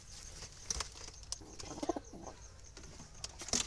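A black Jalali, a wild pigeon kept in a basket, gives faint, scattered low coos over a quiet, hissy background, with a few soft clicks and rustles.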